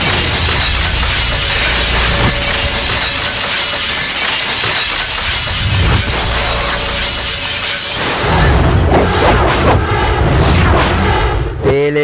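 An explosion blast from an action scene in the Telugu film Vijayadasami brings a loud, sustained roar with shattering debris and booming impacts. A second, heavier burst of crashing comes near the end.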